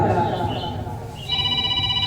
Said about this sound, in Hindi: किसका फोन बार बार आ रहा है?